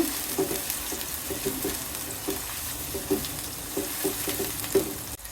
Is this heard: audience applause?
no